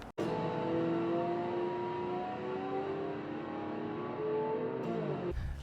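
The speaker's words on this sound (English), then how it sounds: "So I'm gonna pull the Chevrolet in, we're gonna get going." A roughly 1998 Chevrolet work truck with a Vortec 350 V8 and automatic transmission idles close by with a steady, tonal engine hum that shifts pitch slightly, then cuts off abruptly near the end.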